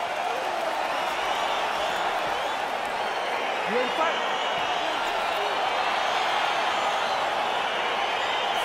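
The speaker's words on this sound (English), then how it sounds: "crowd getting excited as this fight gets underway" An arena crowd at a UFC bout roars and cheers steadily as the fight gets underway, a dense wash of voices with occasional whoops, while a referee's voice speaks briefly over it.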